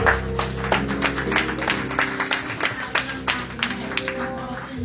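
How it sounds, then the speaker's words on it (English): Applause at a grand opening event, scattered individual claps over a tonal background hum, with sparse, uneven hand strikes rather than a dense ovation. "Another round of applause."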